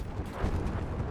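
Flak artillery fire in the World War II shooter Battlefield V rumbles as a dense, continuous low roar of overlapping booms, loud and steady throughout with no voices.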